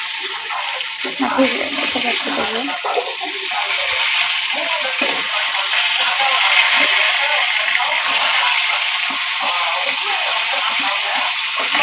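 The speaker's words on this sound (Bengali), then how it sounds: "এখন মাছগুলো ভেজে নিচ্ছে" Fish sizzles and hisses in a pan, sticking slightly as it fries, a constant frying crackle close by, with a voice talking intermittently over it.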